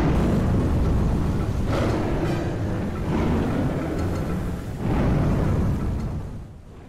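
Lightning storm thunder in the video game Sly 3 rolls in the background as loud, deep rumbles that swell and fade about three times before dying away.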